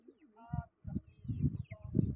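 Pigeons in a rooftop loft coo in a few low, rolling bursts, mixed with nearby voices talking over them.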